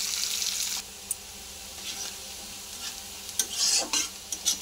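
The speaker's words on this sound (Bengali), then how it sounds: "পেঁয়াজটা ভালো করে লাল করে ভেজে নেব।" Chopped onions fry in hot oil in a pan, a bright sizzle at first, then quieter sizzling broken by scraping, clinking stirring strokes against the pan.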